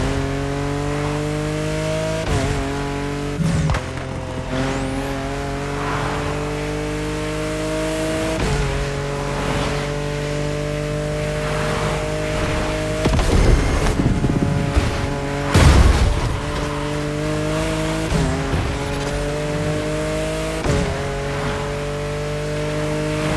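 Drifting cars in the racing video game The Crew Motorfest, with sustained engine drone and shifting revs, rising and falling gear changes, and a few louder squealing or impact moments, continuous throughout.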